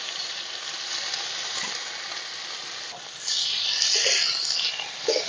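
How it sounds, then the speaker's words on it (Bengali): Mushrooms fry in mustard oil in a kadai, giving a dense, steady hiss that swells louder about halfway through, with a few soft knocks. "মাশরুমগুলো এবার আমি একটু ভেজে নিচ্ছি প্রথমে।"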